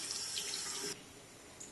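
Water from a bathroom or kitchen tap runs steadily as a makeup brush is rinsed beneath it, a close, continuous splashing hiss that drops off sharply partway through as the brush is pulled out or the flow shifts.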